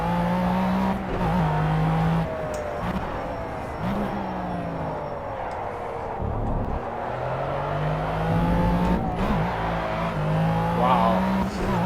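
McLaren F1 in Project CARS at Le Mans, engine revving hard through gear changes with tires spinning in second gear, a continuous loud roar that climbs and drops in pitch.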